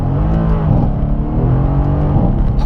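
A 2017 Mercedes C63 AMG S engine pulling hard under acceleration, a loud, dense, continuous roar with rising harmonic tones, steady and close throughout.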